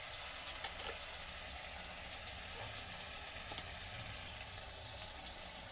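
Ginger paste, garlic paste, salt, turmeric and cumin powder fry in oil with a quiet, even sizzle for fish bhuna, with a couple of faint clicks from stirring.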